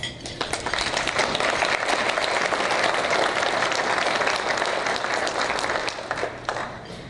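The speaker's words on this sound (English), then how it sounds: "Please join me in thanking them with your applause." Sustained applause from a large audience at a village State of the Village event, a dense continuous roar of many hands clapping for about six seconds before fading out.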